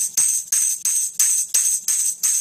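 A steady beat is divided evenly in half in a straight rhythm. Seven crisp, bright, shaker-like strokes come evenly spaced, each with a quick swish that rings briefly before the next, loud and close with no voices.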